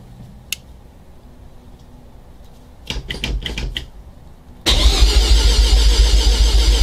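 A 1988 Mazda RX7 FC3S rotary engine cranks during fuel priming: a few clicks and a rattly burst come first, then loud, close, rhythmic cranking pulses with a strong low rumble, and no voices.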